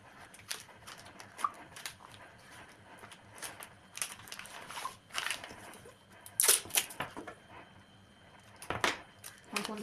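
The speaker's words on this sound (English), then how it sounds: "we are going to take approximately, again, 2 inches of tape" Adhesive tape pulled off a roll and pressed onto floral gift wrapping paper, a scatter of quiet crackles, rips and taps at close range over soft rustling.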